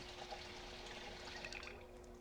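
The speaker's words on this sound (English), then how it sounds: "right click, Chrome Sink, fill, empty tin can" Water running from a chrome sink tap into an empty tin can in the survival game Project Zomboid, a steady soft trickle and pour lasting a couple of seconds at low volume, with no talk over it.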